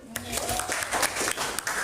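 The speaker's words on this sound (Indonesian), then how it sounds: "Baik, silakan tepuk tangan dulu." Classroom applause from students in a teacher-training lesson, scattered claps in a short burst, fairly close, with a voice talking over them.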